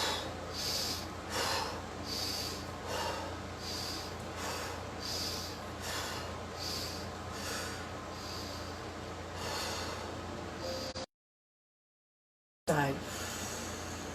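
Steady rhythmic breathing through a yoga arm exercise, exhaling as the fingers lower and inhaling as they rise, about a dozen close, even breath cycles with a brief silent gap near the end.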